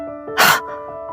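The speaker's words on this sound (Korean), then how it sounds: "재채기 한 번이" A single short, sharp human sneeze bursts out close and loud over a faint steady background tone, with no speech around it.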